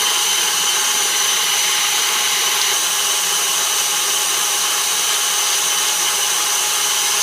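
A stand mixer creams pumpkin cookie dough, giving off a loud, steady motor whir that stays unbroken throughout, close by and with no one speaking.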